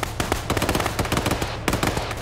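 Rapid automatic gunfire rattles in dense bursts throughout a military video game firefight, loud and close, with overlapping shots and no pause.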